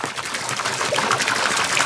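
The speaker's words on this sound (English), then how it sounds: "look at that water flowing" Water gushes steadily from a well pump, a dense, continuous close-up rush of flow with no talking over it.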